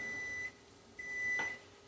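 A microwave oven beeps after heating broccoli, giving two short electronic tones separated by a pause, close and clear over a faint room hum.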